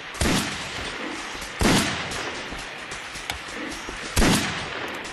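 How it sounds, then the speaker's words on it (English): Three sharp, loud gunshots ring out in Silent Hill: Homecoming, spaced over a few seconds, each with a short decaying tail over a steady game ambience. "I'm gonna shoot this prick in the face."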